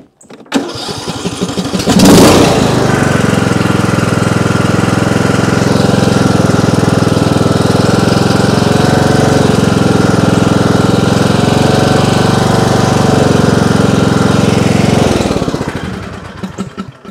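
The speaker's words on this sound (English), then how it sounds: "So that was me actuating the throttle all the way down and all the way back up." Craftsman T225 riding lawnmower engine running steadily and loud with no talk, a sharp rise in intensity as the throttle is pulled down and pushed back up early on, then a sustained even drone until it cuts off near the end.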